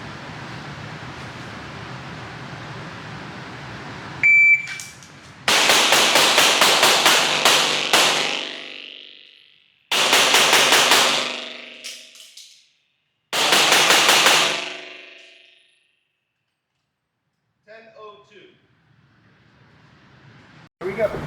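Rapid strings of gunshots in three bursts during USPSA competition-style moving-and-shooting practice, each volley loud and sharp with echoing tails, separated by pauses, followed by faint clicks and handling noises.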